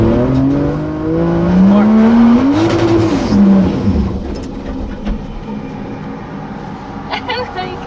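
Drift car, a 2JZ-swapped Nissan 240SX, revs hard while spinning donuts, engine pitch rising and falling loudly with some tire noise, and a voice talks over it.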